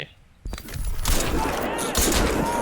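Sustained automatic gunfire in the video game Crysis 2, a dense, loud continuous burst of shots with booming low end starting half a second in and running to the end.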